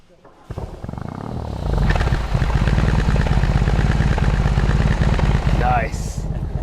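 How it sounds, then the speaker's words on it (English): A motorcycle boxer engine starts and settles into a steady, throbbing idle close by, loud and continuous, with a brief voice near the end. "Start button starts the engine."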